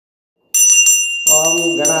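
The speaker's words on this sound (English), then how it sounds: "ringing of bells" Bells ring in a Kerala temple: a bright high metallic ringing starts after a short silence, then a second, fuller clang joins with lower tones, close and loud, with no voices.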